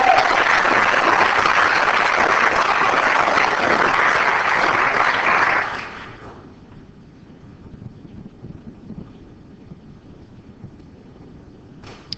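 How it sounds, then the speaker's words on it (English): Audience applause at a city council meeting honoring a Water Utilities Department employee's 25 years of service; steady clapping for about six seconds, then cutting off to quiet room noise with faint shuffling. "Let's help William celebrate 25 years of service to our community with a round of applause."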